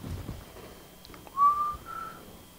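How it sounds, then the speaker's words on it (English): A person whistles one short rising tone that holds briefly and then sounds a second, softer note, close and clear over a quiet room. "Just had to get a whistle in while Trevor wasn't there."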